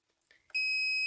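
A few faint clicks, then a single loud electronic beep from a UPS battery backup switches on and holds steady, high-pitched and close, as the unit shuts off again.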